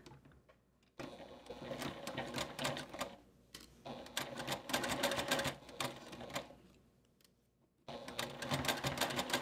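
A sewing machine stitches a zipper pouch at a short stitch length, running in three rapid, rattling bursts separated by brief pauses, close and clear with no talking.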